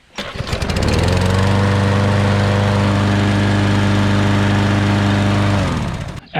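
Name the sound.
Husqvarna self-propelled push lawn mower engine running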